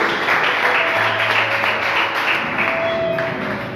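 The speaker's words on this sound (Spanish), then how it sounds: "¿Cuánto dan un fuerte aplauso a la palabra de Dios?" A church congregation applauds after a Spanish-language sermon on Romans 5, a steady dense wash of clapping hands that holds at even loudness throughout with no talk over it.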